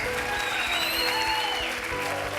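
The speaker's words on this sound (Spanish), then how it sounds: "Dale un aplauso bien fuerte al Señor" A church congregation applauds loudly and steadily, a dense wash of clapping from many hands filling the room throughout, with faint voices underneath.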